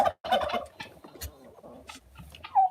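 Poultry gobble in close, loud bursts, a flock of turkeys chattering and calling in quick overlapping rattles near the listener.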